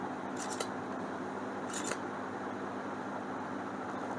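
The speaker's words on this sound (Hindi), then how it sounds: "और इसको मैं अभी क्लिक कर देता हूँ।" A camera shutter clicks twice in quick double bursts, spaced about a second apart, while rice grains are photographed close up. The clicks sit over a constant loud hiss of background noise.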